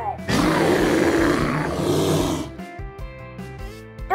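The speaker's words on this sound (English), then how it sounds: "Pig." A pig grunts and snorts loudly at close range in a long, rough burst, then a fainter tail of shorter grunting follows.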